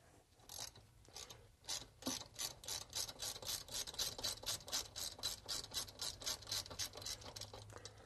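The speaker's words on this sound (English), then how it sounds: "we'll take our 12mm socket or wrench, whichever you happen to choose, and we're going to remove the fastener that holds this to the strut assembly" A hand ratchet turning a 12mm socket to remove the fastener holding a car's front brake hose to the strut assembly, clicking in a fast steady rhythm of repeated strokes, close and alone.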